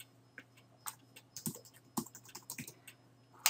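Keys clack on a computer keyboard in an uneven run of close, crisp taps with short pauses between bursts, over a faint steady background hum.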